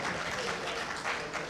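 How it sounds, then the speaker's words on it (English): An audience of seminar participants at a road-engineering training session claps together, a soft continuous patter of many hands, moderately distant and fairly quiet. "Clap for yourself, please."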